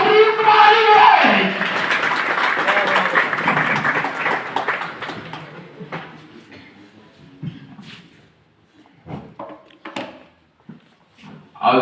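Audience applause at a political gathering for a PML-N provincial assembly candidate swells into a dense burst of clapping, then thins out and fades to scattered claps and background stirring.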